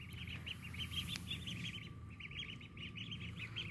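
Ducks calling in a backyard coop: repeated nasal quacks in short rhythmic runs over a steady low outdoor hum, fairly distant and moderately loud, with one sharp click partway through.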